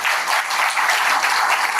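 An audience applauds steadily, a dense, bright wash of clapping that holds at an even, fairly loud level throughout.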